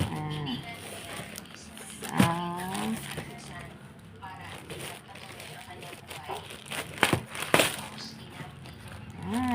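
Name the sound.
package being torn open, plastic crinkling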